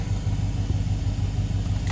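A car engine running indoors, a close, steady low rumble with an even pulsing idle, alone with no voices.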